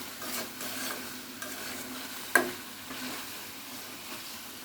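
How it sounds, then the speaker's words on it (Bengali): Broiler chicken curry being stirred in a frying pan, heard as a quiet, soft sizzle with light scraping strokes and one sharp utensil clink, without any talking. "এখন এটাকে সুন্দর করে নাড়াচাড়া করে একদম লোতে 5 মিনিটের মতো সিদ্ধ করে নেব"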